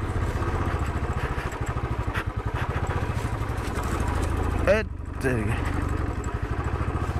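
A motorcycle engine labours steadily and close, its low throbbing drone running throughout with a brief surge near the end, while people talk over it at a Jhakri dance ritual in a village.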